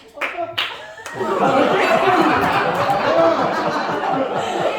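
A stand-up comedy crowd breaks into laughter and scattered clapping, building from a few brief bursts into a sustained, fairly loud swell of chuckles and applause with chatter mixed in.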